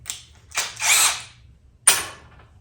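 A cordless drill driving screws into wood, several short whirring bursts with brief gaps and a sharp final burst, close and loud with no talking.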